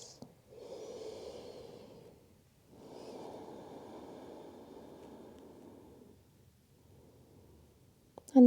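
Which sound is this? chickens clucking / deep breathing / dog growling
deep breathing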